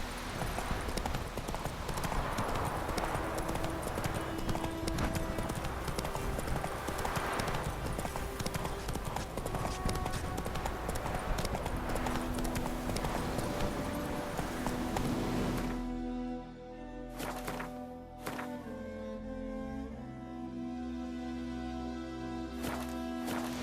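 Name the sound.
horse Roach trotting, from video game The Witcher 3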